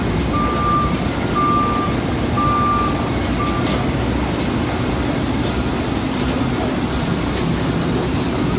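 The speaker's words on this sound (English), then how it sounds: "The Volvo skid steer grabs it, and we bail it out." Volvo skid steer sounding four evenly spaced reversing beeps at a recycling plant, set over a loud steady hum of conveyor machinery, with no talk.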